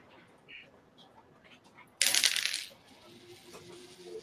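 A small handful of coins falls onto a tabletop with a sudden loud metallic crash, then rattles and spins down into fainter clinks, close and clear against near silence.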